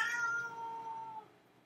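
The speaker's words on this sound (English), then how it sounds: "That's my cat." A pet cat lets out a single long, drawn-out meow, close and clear, that trails off into quiet with no other sounds around it.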